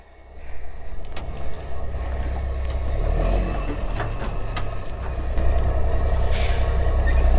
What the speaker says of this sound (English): All right, air brakes are off.